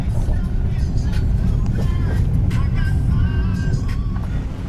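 A car driving along a road in Abkhazia in November, a loud steady low engine and tyre rumble filling the whole stretch, with a person talking over it inside the cabin.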